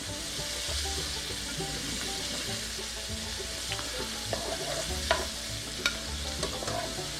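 Venison pieces frying in a pan, a steady soft sizzle with occasional stirring clinks and scrapes, close up and fairly quiet, with no talk.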